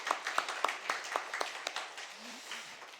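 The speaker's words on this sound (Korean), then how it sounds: "다시 한번 환영하는 마음으로 박수 한번 하겠습니다." A Sunday worship congregation in a Korean church claps in welcome: a handful of distinct, fairly faint claps at a loose rhythm, thinning out toward the end over a quiet room.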